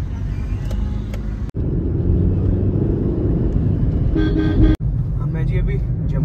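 A car sets off on a bypass road near Jammu with a loud, steady engine and road rumble. A couple of sharp clicks and short horn toots cut through, and voices are faintly present.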